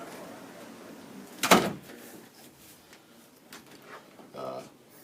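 A door closes with a single sharp bang, followed by softer rustling and a brief rattle, with voices faintly in the background.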